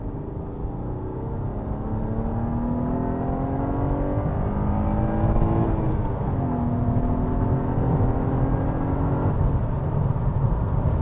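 Ford Mondeo ST220 engine revving steadily upward toward 7000 rpm, its harmonic whine climbing and briefly dipping as it shifts before rising again, loud and continuous with no talking.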